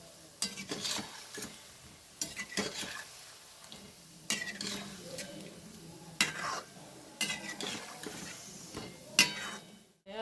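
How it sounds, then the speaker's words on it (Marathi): Bread pieces roast in a pan while a metal spatula repeatedly scrapes and knocks against it, sharp clattering strokes spaced every second or two over faint sizzling; no one speaks. "हे सगळे असे भाजून घेते"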